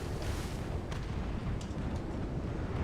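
Torpedo released from a low-flying bomber in the War Thunder naval beta, heard as a dense, steady roar of engine and battle noise with a few soft bursts, no talk over it.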